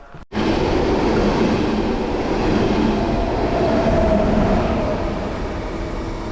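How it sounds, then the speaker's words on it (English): A high-speed bullet train in Germany roars past close by, a loud sustained rush of wind and rail noise that begins abruptly and holds steady before easing slightly. "Bullet train, guys, super fast."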